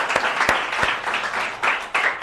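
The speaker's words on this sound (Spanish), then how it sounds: "Demos un fuerte aplauso al Señor." Applause in church during a Sunday service, a congregation clapping continuously with a few sharp individual claps standing out, fairly loud and close.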